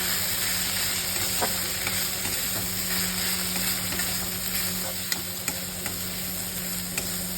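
Long beans fry in a pan with sugar as grated coconut is stirred in, a constant soft sizzle broken by a few sharp spatula clicks against the pan, no one speaking.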